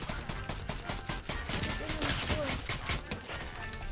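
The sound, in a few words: gunfire in the video game Fortnite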